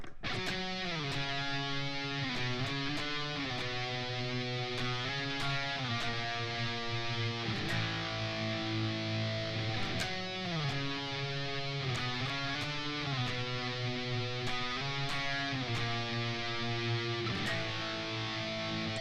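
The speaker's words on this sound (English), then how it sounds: "We have a little octave solo that comes in" A distorted electric guitar plays a busy octave solo, with the pitch moving steadily throughout, joined by drum hits and a constant backing mix, moderately quiet.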